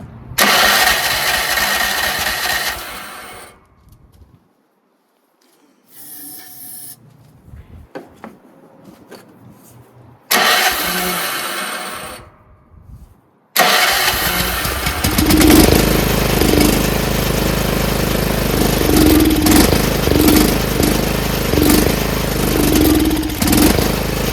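A Craftsman rear engine riding mower with a no-start safety switch bypass, fed starting fluid, cranks in short loud bursts with gaps between them. It then catches and runs steadily, loud and close, with a rhythmic chug.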